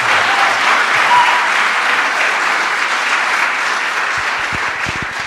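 Loud, dense audience applause at a privacy panel discussion, steady for several seconds and tapering slightly at the end, filling the room without speech.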